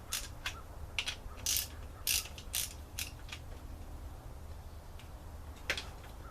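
A ratchet wrench working the 10 mm valve cover nuts on a Honda Accord wagon engine, quick metallic clicking bursts in short runs with pauses, close and crisp over a steady low background noise.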